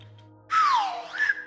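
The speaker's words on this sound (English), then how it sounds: "And I have a side whistle" A side whistle blown once, a short loud tone that sweeps downward and then rises again, heard close and alone.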